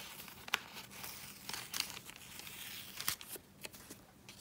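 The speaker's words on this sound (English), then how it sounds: "we are ready to take off our post-it tape." Post-it tape being peeled off paper in a Bible journaling page: soft crinkling and tearing rasps come in short irregular bursts, quiet and close, with no voice over them.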